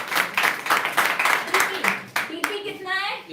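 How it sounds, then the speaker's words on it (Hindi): An indoor audience claps in a short round of applause with brisk, uneven slaps, and a voice speaks near the end. "तालियां हो जाए एक बार"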